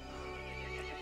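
A horse whinnies in the video game Resident Evil Village, a short, loud, continuous neigh with rich tonal layers lasting about a second, alone without voices.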